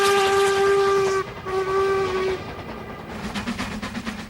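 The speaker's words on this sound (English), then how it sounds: "my favourite steam engine of all, the Stanier Black Fives" A Stanier Black Five steam locomotive on a railway line sounds a long, loud steady whistle, briefly cut off and then sounded again, before the chuffing and rolling noise of the train takes over.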